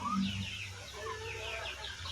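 Roosters on a farm cluck softly and intermittently, a few faint, close calls over a quiet background.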